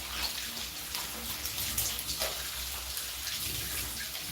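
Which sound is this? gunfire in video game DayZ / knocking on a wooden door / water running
water running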